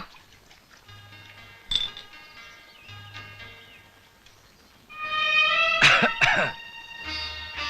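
A man gives a few sharp coughs and a throat-clearing in an old Malayalam film scene, over soft, steady background music, the loudest pair coming close together near the end.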